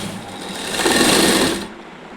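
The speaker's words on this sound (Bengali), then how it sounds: "সেলাই দিয়ে দেবো একটা।" A sewing machine runs continuously while stitching a short nighty, a fast, steady whirring hum that swells slightly in the middle and stops near the end, close and fairly loud, with no talk.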